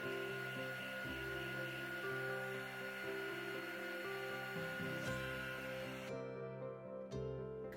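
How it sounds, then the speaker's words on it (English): A heat gun blows a steady, loud stream of hot air onto rice paper peony petals for a cake topper, a continuous whooshing hum with brief shifts as it moves, cutting off near the end. "One of the best part of using heat gun is you can shape the petals as you want."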